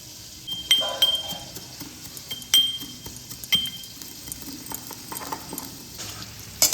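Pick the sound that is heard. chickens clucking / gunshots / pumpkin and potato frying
pumpkin and potato frying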